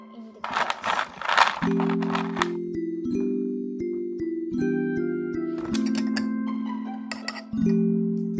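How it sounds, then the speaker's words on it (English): Ice cubes clinking into a glass of homemade lemon iced tea, a few bright clinks and rattles near the start, then a steady sustained musical tone carries on beneath. "Put ice cube in the glass."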